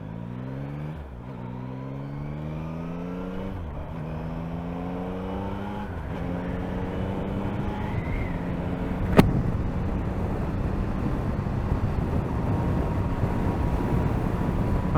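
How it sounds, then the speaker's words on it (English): 2024 Yamaha MT-09 motorcycle accelerating through several gears, its intake and engine note climbing in pitch with each shift, then settling into a steady high-speed roar with rushing wind noise, loud and close. "So I can't wait to open this up to hear this intake a little bit more."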